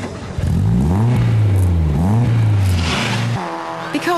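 A rallycross car with a bigger air filter and a muddy sports exhaust revs hard and close, its engine note rising and falling in repeated sweeps before cutting to a lower idle.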